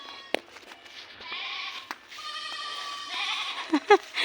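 Goats bleating on a village farm, a mother goat calling her kid with repeated quavering bleats at varying loudness, close by and separated by short pauses.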